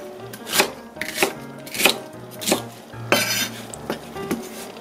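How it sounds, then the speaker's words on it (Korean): A knife chops an onion into pieces on a cutting board in slow, regular strokes, about eight sharp thuds with light clinks between them. "갈기 좋게 이렇게 잘라주세요."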